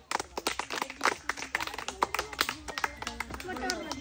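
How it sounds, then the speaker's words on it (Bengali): A group of children claps when asked, producing a quick run of sharp, uneven claps up close, mixed with voices chattering over them. "হাততালি, হাততালি দাও সবাই"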